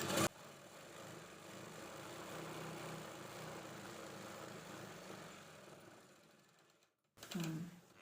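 A sewing machine stitches a girls' school uniform skirt, running in one quiet, steady whir for about seven seconds before stopping, then a brief louder burst.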